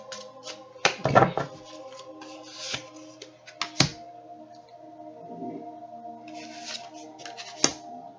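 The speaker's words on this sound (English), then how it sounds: "Shuffle one more time and then I'll just take out the top." Tarot cards being shuffled by hand, with soft riffling and flicking sounds, a few sharper taps and rustles, close up against a faint background hum.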